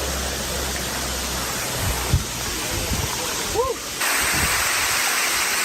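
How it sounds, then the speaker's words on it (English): A small waterfall roars as a dense, steady broadband rush, close and loud, with a brief vocal sound and some handling bumps on top. "there's a little waterfall over here."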